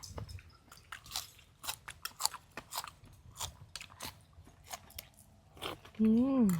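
Someone chews raw beef and sweet liver dipped in jaew, a run of close, crisp bites and wet chewing in an uneven rhythm, with a brief voice near the end.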